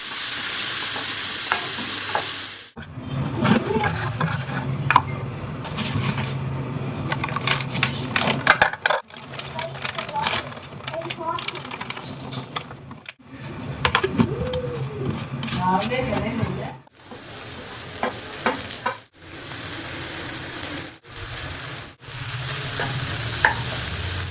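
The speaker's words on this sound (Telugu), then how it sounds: "అందులోని ఉల్లిపాయ ముక్కలు వేసి గోల్డెన్ బ్రౌన్ కలర్ వచ్చేంత వరకు ఫ్రై చేసుకోవాలి" Chopped onions with spices and cashews fry in a pan, a soft sizzle broken by scraping and stirring, while someone talks over much of it and the sound pauses now and then.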